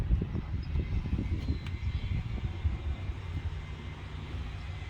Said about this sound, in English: Engine runs strong